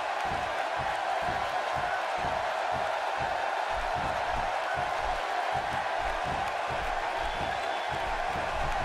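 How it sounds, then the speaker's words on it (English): A wrestling arena crowd of Cleveland fans roars in a dense, steady wash during a ladder match, with a faint rhythmic pounding beneath it. "by the sound of this crowd, I think they're getting what they wanted"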